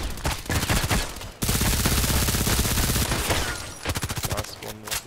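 Scorpion EVO submachine gun fired in the shooter game Contract Wars: loud rapid bursts close by, a short burst, then a long sustained stream of shots, a pause and another quick burst.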